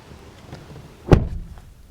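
A Hyundai Bayon rear car door is opened: one short, sharp latch clunk near the middle, close and fairly loud against a quiet interior background.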